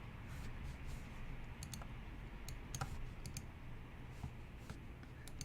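Soft computer mouse clicks land while someone edits a page title on a Weebly website, a scattering of faint, sharp ticks over a quiet hiss.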